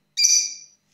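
A pet cockatiel gives a single sharp, high whistled call, loud and close, lasting about half a second in silence.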